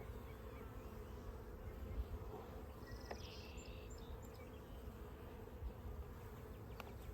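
A steady low hum of many honey bees buzzing close by at an open hive during inspection, continuous and fairly quiet, with a faint bird chirp in the background.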